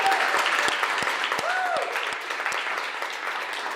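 An audience at a social purpose marketing event bursts into sustained applause, a dense even wash of clapping with a brief whoop or whistle rising above it.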